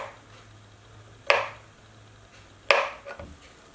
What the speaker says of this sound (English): I'm just going to cut it into small bite-sized pieces like this